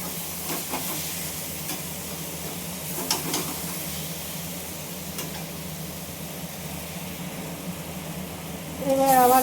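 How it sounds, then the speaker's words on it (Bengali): Egg curry masala being stir-fried in oil with sugar added, a steady low sizzle with occasional scraping stirs throughout, growing a bit louder near the end. "এবার ভালো করে আবারও কষাবো যতক্ষণ না তেলটা ছাড়া ছাড়া হয়।"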